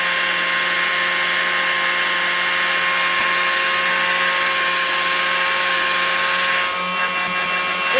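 A vintage Apex 617 hand-held vacuum runs steadily with a high whining motor hum and airy rush, close and loud, with a slight change in tone near the end.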